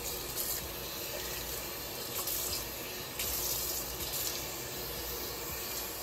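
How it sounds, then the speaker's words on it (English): Steady running tap water rinsing bleach out of a lace frontal at a sink, a continuous even splash with a few brief surges, close and alone with no voices. "And you just keep rinsing all that out."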